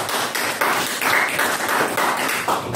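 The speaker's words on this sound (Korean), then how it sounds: "우리 박수 한번 하시고 환영합니다" A church congregation at a Korean-language Sunday service claps together to welcome a guest, with dense, steady applause filling the room for a few seconds.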